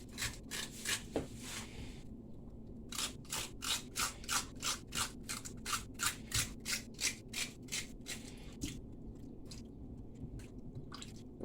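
Raw yam being scraped by hand for Nigerian porridge yam, heard as a steady run of quick, rasping strokes that pause briefly and then resume, close and clear with no talking.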